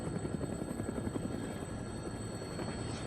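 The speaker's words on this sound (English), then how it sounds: "Looks like taking a helicopter was the way to go." A helicopter in the video game Dead Rising gives a steady, loud, continuous rotor thrum and whine throughout, with no voices.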